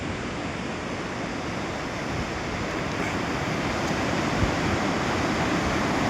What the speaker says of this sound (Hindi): और दरिया का शोर अगर सुने ना